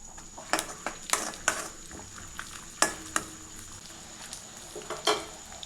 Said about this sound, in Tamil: இப்போ நல்லா பொடியாக நறுக்கி வச்சுருக்க தேங்காய் பல் அதில் சேர்த்துக்கலாங்க.